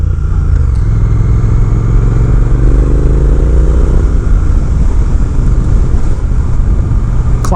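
Loud, close rumbling exhaust of a 2020 Triumph Speed Twin 1200 twin-cylinder motorcycle with factory cans, a deep throbbing idle and rising revs, steady and continuous with no talking.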